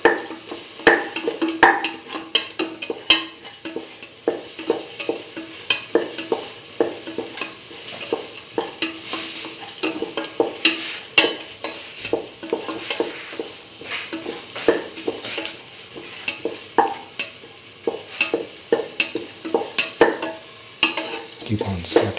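Beetroot chickpea dip being stirred and mixed in a pan, a steady scraping and sizzling that runs on and on, with frequent small clinks of the utensil against the pan.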